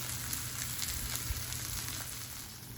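A steak sizzles and fries steadily in a hot iron skillet, a soft continuous crackle with faint pops, heard alone without talk.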